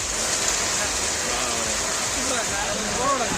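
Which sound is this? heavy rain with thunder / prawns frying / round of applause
heavy rain with thunder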